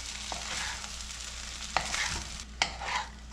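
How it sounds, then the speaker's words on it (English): Cooked rice is gently folded into a spiced brinjal mixture for Karnataka-style vangibath, making soft continuous scraping and shuffling close by, with a couple of sharper spoon knocks against the pan. "transfer this rice to it and give a gentle mix to it"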